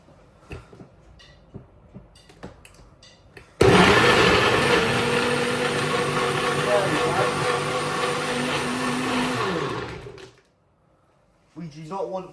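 A kitchen blender whirs loudly for about seven seconds while mixing a milkshake, a steady high-pitched motor drone that starts abruptly and winds down, with talking before and after.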